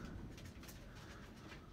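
A Kayseri pigeon coos softly in a loft under a roof, a low repeated throaty call that is faint and close against a quiet background.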